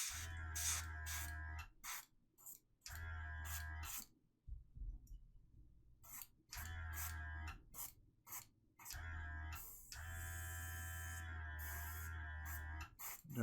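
Short bursts of paint spray hiss in and stop again, roughly five quiet, close sprays separated by brief pauses, applied while painting a reptilian skin effect.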